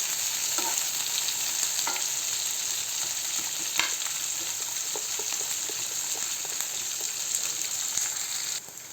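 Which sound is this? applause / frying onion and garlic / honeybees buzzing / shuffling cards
frying onion and garlic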